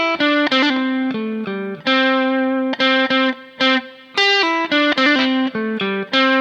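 Electric guitar run through effects plays a slow part, distinct plucked notes ringing one after another with short gaps, clear and upfront with no talking.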